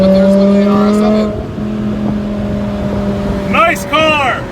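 Audi RS7 on a public road, its engine note rising as it approaches and passes close by, while people inside a nearby car talk excitedly over the sound.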